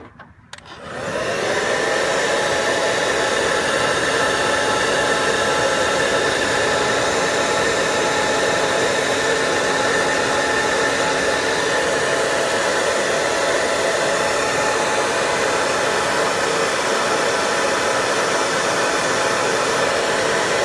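A heat gun blows a steady, loud, continuous whoosh while it shrinks heat-shrink tubing over wiring connectors during a Polaris RZR 1000 repair. It starts up at the beginning and holds constant for the full length, with no talking.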